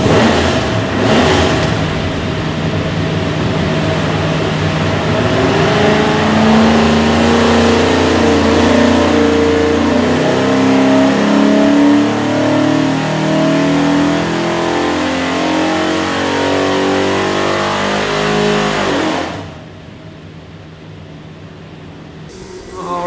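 A Ford 347 cubic-inch small-block stroker engine with a hydraulic roller cam, built for a 1965 Mustang, roars loudly on a dyno. It holds a sustained rising pull for about nineteen seconds, then drops abruptly to idle.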